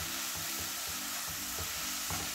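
Chicken pitha filling with soy sauce being stirred in a pan, a steady soft sizzle under repeated scraping strokes of the spoon, close and continuous with no talk.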